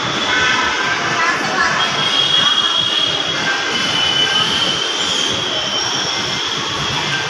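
A metro train at a metro station, with a steady loud rumble and high squealing wheels that fill the clip throughout.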